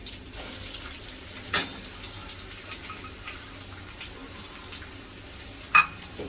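Chopped onion frying in a pan on a home stove, giving a steady soft sizzle throughout with two short sharp clatters from a utensil partway through; no talking.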